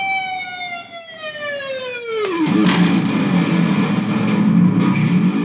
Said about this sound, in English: We can also make it sound like a Stuka dive by getting a harmonic, dipping that, and then to get the bomb, at the very bottom we can get the low strings.